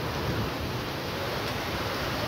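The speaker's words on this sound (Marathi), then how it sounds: "खूप जोरात येऊ राहिला पाऊस हे बघा" Heavy rain driven by strong wind makes a steady, close, unbroken roar with no voices.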